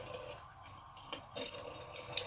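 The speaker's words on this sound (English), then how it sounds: "And then I use filtered water" Filtered water poured into a cupped hand at a bathroom sink during a nighttime skincare routine, a soft close trickle and a few light splashes and drips, with no talking.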